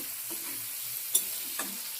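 Shrimp frying in a pan give off a steady, quiet sizzle, with a couple of light clicks from stirring.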